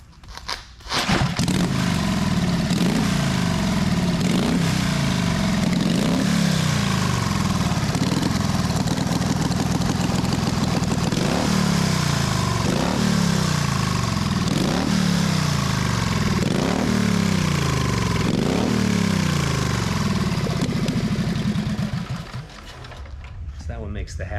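An old one-kick Harley Sportster motorcycle engine runs steadily and loudly for a long stretch, a rough loping idle with repeated rising and falling revs, then cuts off near the end.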